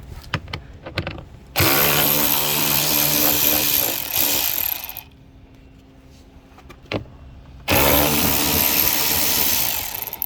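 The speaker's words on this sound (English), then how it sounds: "We're using a 7mm socket." A power driver with a 7mm socket removes the door panel screws on a 2013-2022 Lincoln MKZ front door. It gives two loud, close whirring bursts of several seconds each with a lower hum between them and some small clicks, and no talking.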